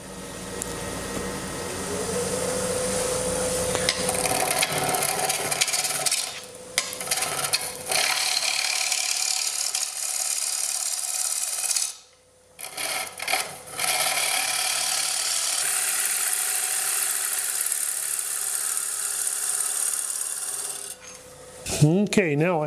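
A wooden drive block being trued on a woodturning lathe gives a continuous close rasping scrape of a tool cutting spinning wood. It stops briefly twice, then resumes, with no talking.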